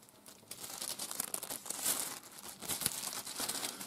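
Crinkling of a plastic packaging bag being handled up close, a steady soft rustle with irregular crackly bursts over a few seconds, no talking.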